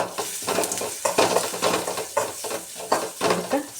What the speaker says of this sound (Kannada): ಈರುಳ್ಳಿ ಸ್ವಲ್ಪ ಎಣ್ಣೆ ಒಳಗೆ ಫ್ರೈ ಆಗಿವು